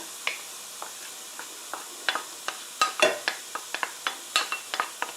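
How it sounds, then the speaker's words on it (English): Chopped celery sautés in a hot pan while being stirred for crawfish jambalaya, giving soft sizzling under a series of quick, irregular scraping and clinking stirs, close and fairly quiet. "Go ahead and saute this up pretty nicely."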